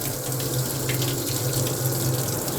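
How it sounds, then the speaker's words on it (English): A hospital scrub sink faucet runs steadily while arms are rinsed, a continuous close hiss and splash of flowing water with no talk. "rinse one arm at a time. Rotate your arm to make sure you get all the soap off and come through in one motion"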